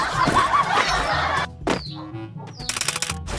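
A chicken clucking in the Free Fire video game, loud wing-flapping and scratchy clucks at first, then sparse, sharp clucks and squawks, with no voices.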